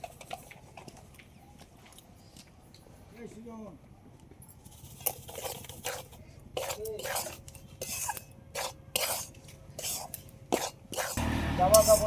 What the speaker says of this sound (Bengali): আর এইভাবে একভাবে নাড়তে হবে, তাহলে কিন্তু চালের গুঁড়োর ভাজাটাও ভালো হবে